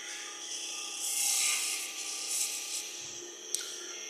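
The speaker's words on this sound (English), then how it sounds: "Come back with that same smaller spindle gouge here and just clean up right underneath the branches." A small spindle gouge cuts and cleans up wood beneath carved branches on a lathe-turned Christmas tree, a steady soft rasping scrape with swells in intensity and a brief sharp tick near the end, no talking.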